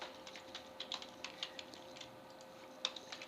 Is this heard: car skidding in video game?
no